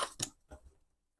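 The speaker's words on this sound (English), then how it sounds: "So I'm just going to cut this off" Scissors snip through material being cut to size, two or three crisp close cuts in quick succession with short pauses, no talking.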